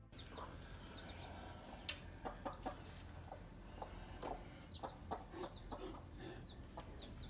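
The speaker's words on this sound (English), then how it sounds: "a mother chicken was seen tending to her clucking little ones" A mother hen clucks softly beside her little chicks in a series of short, scattered calls over a quiet background, with a steady high electronic tone running throughout.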